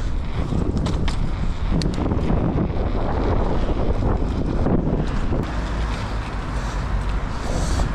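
Strong wind buffets the microphone continuously, a loud rushing roar with gusty rumble throughout.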